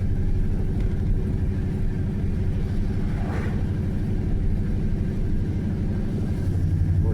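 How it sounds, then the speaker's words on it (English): A strong engine idles with a loud, steady low rumble and throb that holds without pause for several seconds, with no voices. "Even when it was idling good, you could just idle along at 45 miles an hour."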